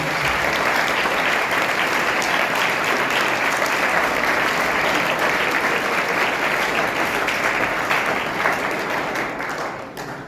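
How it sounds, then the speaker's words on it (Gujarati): Sustained applause from a large crowd at a book presentation ceremony in a high school, loud and steady throughout, tapering slightly at the very end. "જોરદાર તાળીઓથી આપણે"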